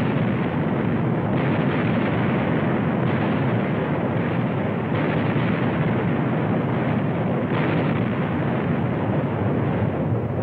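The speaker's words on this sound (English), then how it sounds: "For 5 hours, she exchanged broadsides with the heavier gun Vengeance." Sustained naval cannon broadsides exchanged between the 1800 frigate Constellation and the heavier-gunned French warship Vengeance, a continuous loud roar of booming fire and rumbling blasts with no pauses.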